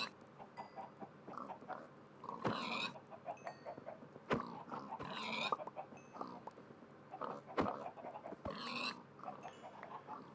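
Farm animals in a video game, chickens clucking alongside pig-like grunts and snorts, faint and close, with brief sharp clicks scattered among the calls.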